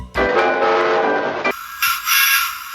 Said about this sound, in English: the whistle sounds exactly like his whistle